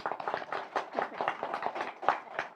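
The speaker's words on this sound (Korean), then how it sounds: "다 같이 잘했다 박수로." A church congregation claps together in a steady rhythmic burst of many hands, loud and close, continuing without pause.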